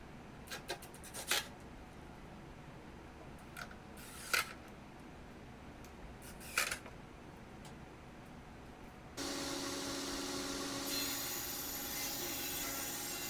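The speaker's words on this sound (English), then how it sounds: "Pre-drill and send those screws home." Several short scraping, rasping bursts against wood, then a sustained whirring drill-like buzz running steadily to the end, as screws are driven into pre-drilled holes in a wooden raised herb planter.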